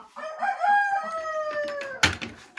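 Hens crowing and clucking in a backyard flock of young laying chickens on a hot day, a drawn-out crow rising then trailing off, followed by a sharp burst of squawking near the mic.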